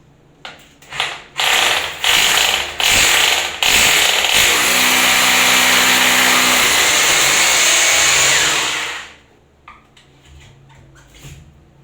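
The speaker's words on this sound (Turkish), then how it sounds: "Önce burayı ayarlayıp deliyorum." Power drill boring into a bathroom wall to mount a shower set: several short loud bursts, then one sustained grinding whir for about five seconds that stops abruptly, followed by faint handling noises.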